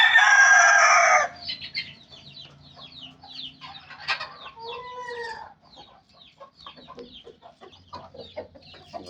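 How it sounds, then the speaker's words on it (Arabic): A Polish rooster lets out a loud, bright crow up close, then Polish hens cluck and murmur in short irregular bursts, with a few sharper calls scattered through the rest. "هذا الديك البولوني"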